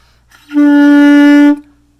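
A single sustained clarinet note, steady and bright for about a second, played alone with a slightly thin, pinched tone from too little mouthpiece in the mouth.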